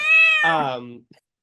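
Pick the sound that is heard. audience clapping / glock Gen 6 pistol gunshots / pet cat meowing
pet cat meowing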